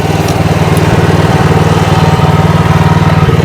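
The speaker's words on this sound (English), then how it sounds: "The auger's a bit slower." Heavy-duty powered earth auger grinding slowly into rocky ground, a loud, steady low engine drone with a rhythmic pulsing churn held close and continuous throughout.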